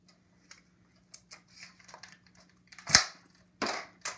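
Nerf Rebelle Heartbreaker toy bow firing elite foam darts outdoors, giving several sharp snapping releases, a quiet click or two, then three louder close shots near the end with no talking.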